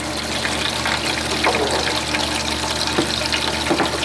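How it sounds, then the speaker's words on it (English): Water gushing steadily from a wash spigot on a gold-mining setup, a loud continuous hiss and splash with a pump or machinery hum underneath, close by and unbroken, with no talking. "wash spigot off."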